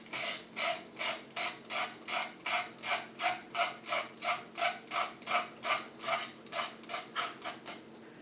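Charcoal being scraped into powder, heard up close as a steady, rhythmic series of about twenty short rasping strokes, evenly spaced and fairly loud, with no voices.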